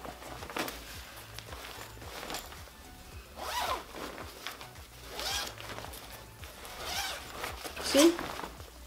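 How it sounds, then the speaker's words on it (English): The zipper of a bedding bag pulled in several short, rasping strokes, close by, with light rustling of fabric between pulls. "It has a zipper."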